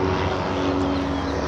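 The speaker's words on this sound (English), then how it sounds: "Yes, that's a helicopter." A helicopter circles overhead, its engine and rotor making a loud, steady droning rumble with a constant low hum throughout.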